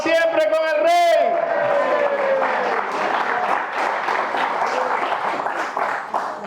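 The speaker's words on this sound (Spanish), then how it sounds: "No se quieren, no aplaudan tanto" A church congregation applauding during a sermon: dense, sustained clapping from a large crowd in a hall, following a loud sung or shouted tone at the start, with a voice over the applause.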